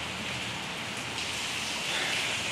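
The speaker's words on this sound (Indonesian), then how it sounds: "ini lagi hujan ya, hujan deras dari subuh, dari semalam nggak berhenti berhenti" Heavy rain that has poured since before dawn keeps falling outdoors in Indonesia, a dense, steady hiss of drops on surfaces with no voices, holding even and unbroken from start to finish.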